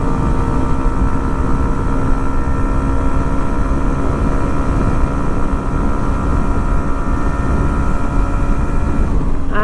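A Hero Xtreme 125R motorcycle accelerates hard in power mode, a loud, steady engine drone mixed with rushing wind at speed, recorded up close without pauses or talk.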